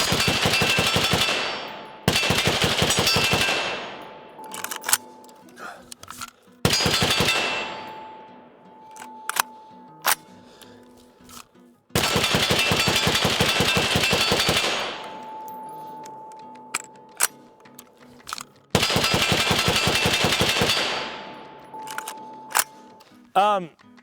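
A semi-automatic rifle fitted with a K&S gas piston fires in several long rapid bursts separated by pauses, each volley loud and sharp with ringing echoes and scattered single shots between.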